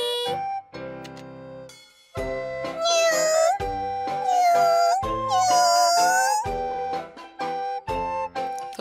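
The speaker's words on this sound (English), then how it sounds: "Those are really some pathetic cat noises." Cat meowing in the video game Atelier Meruru, a run of high, wavering synthesized meows mixed with short chiming notes, loud and clear with no talking.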